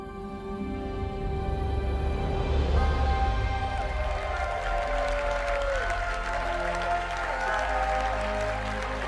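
An audience at a live Ubisoft showcase event claps steadily for the full stretch, a dense wash of applause with musical tones ringing underneath and no voices.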